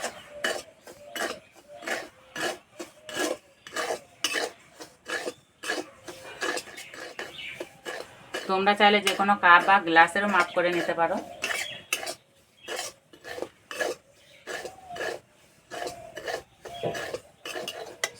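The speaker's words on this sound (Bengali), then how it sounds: "হালকা আছে কিছুক্ষণ ভেজে নেব" A metal spoon scrapes and taps against a wok as semolina dry-fries, a steady run of sharp clinks about every half second, with a person talking over it partway through.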